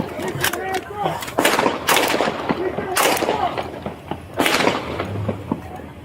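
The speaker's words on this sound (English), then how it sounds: "Officers fired additional rounds." Police officers fire additional rounds during a shooting near a vehicle, with several sharp gunshot bursts spread across the clip, loud and close, mixed with shouting voices.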